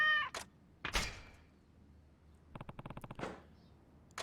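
A couple of cats meowing in the video game Like a Dragon Ishin: a few short, separate meows against a quiet background, with a brief rapid rattling patter in between.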